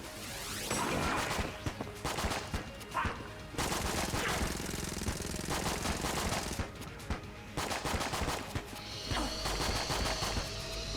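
Dense, continuous volleys of Vorpal weapon fire from Enter the Gungeon crash and rattle in long bursts during a Gorgon boss fight, loud and up close with brief gaps, no talking.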